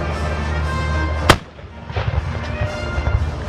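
A ceremonial cannon fired by an artillery crew at an opening ceremony booms once in a sharp loud blast, followed by a rolling echo and outdoor crowd murmur.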